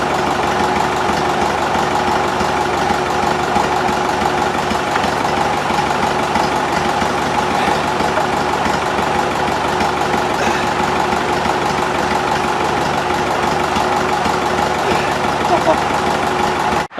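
A tractor engine idles steadily for the whole stretch, a constant low rumble with a faint steady hum, no voices over it.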